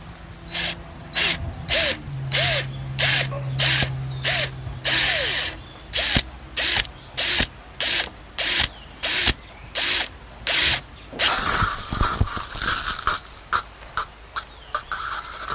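A drill whirs in a long series of short, evenly spaced bursts into a water-filled PVC pipe, close and loud, followed by a stretch of continuous grinding and a few more quick pulses.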